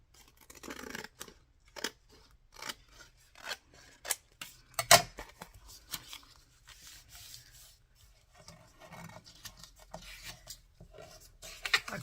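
Scissors trim the back edge of a handmade paper journal in a run of short, crisp snips and rustling cuts, close and fairly quiet, spaced irregularly with pauses between.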